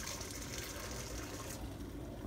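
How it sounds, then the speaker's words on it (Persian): Boiling water poured over tripe in a bowl, a steady close splashing gush that runs throughout and is fairly quiet. "سیرابی رو بذارید توی ظرفی، آب جوش رو بریزید روش"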